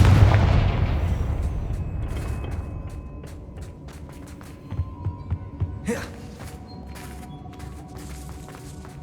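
A Confringo fire spell explosion in the Hogwarts Legacy video game bursts with a loud deep boom that fades out, followed by softer crackling impacts and scattered game effects.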